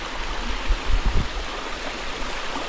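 Steady broadband rush of flowing water from a small waterfall, constant and moderately close, with a few low gurgling surges partway through.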